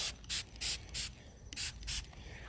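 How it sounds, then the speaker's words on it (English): Iron X paint contaminant remover sprayed onto a 2003 Cobra from a trigger bottle: six quick, close hissing bursts in an uneven rhythm over a low background hum. "You just spray it on."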